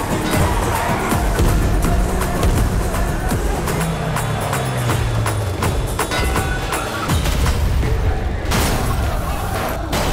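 Dense, continuous film action soundtrack of a chase causing explosions and fires, rumbling blasts with crackling bursts, loud and busy throughout with no clear pauses.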